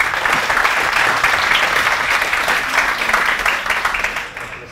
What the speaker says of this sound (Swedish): Jag kan ge honom en stor applåd.